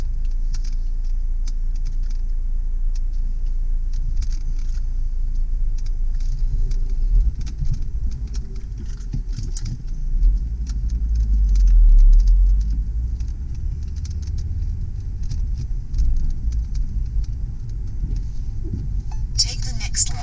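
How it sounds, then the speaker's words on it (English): A car driving along a road, heard from inside as a steady low engine and tire rumble with faint rattles, while a person talks over it. "So let's go take that quick drive."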